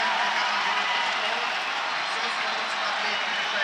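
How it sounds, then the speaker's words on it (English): A home crowd roars and cheers at a Counter-Strike esports grand final, a dense, loud, sustained wash of noise, with commentator voices blended into it. "Much to the delight of the home crowd."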